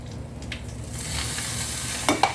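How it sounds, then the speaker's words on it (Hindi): Hot oil poured over glowing coals set on meat for gosht kebab and chicken tikka gives a steady, close sizzle and crackle that swells midway, with a couple of sharp pops near the end. "अंगारे रख देंगे और जनाब उसकी पकाए हुए उसी का ऑयल उसके ऊपर डालेंगे"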